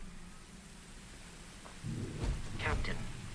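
Thunder rumbles low and close in a game world on a stormy alien planet, building from a faint hiss into a heavier roll with a couple of sharp cracks, heard alone.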